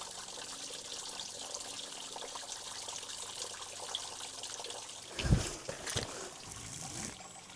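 A small trickle of water running over rocks among lush moss outdoors, a steady soft rushing wash with a brief louder knock or splash near the end.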